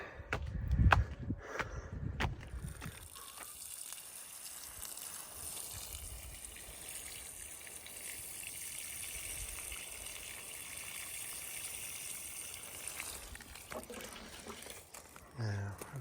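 A steady stream of water pours and splashes onto a newly planted plant for several seconds in the hot Algarve hills, with a few louder knocks and handling noises at the start and end.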